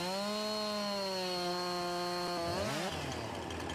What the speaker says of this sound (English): I need this can. I mean, a chainsaw.